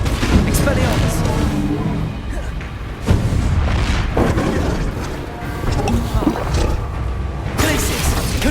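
Spell combat in Hogwarts Legacy, including the Expelliarmus disarming spell, fills the stretch with repeated booming impacts and crackling magical blasts over a dense, loud rumble.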